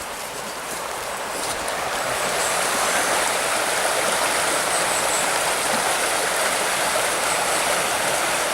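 Swollen river rushing loudly after Storm Ophelia brought a tree down across it, a steady broadband roar of flowing water that holds constant throughout with no voices.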